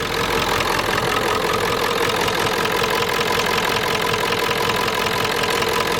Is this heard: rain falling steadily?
no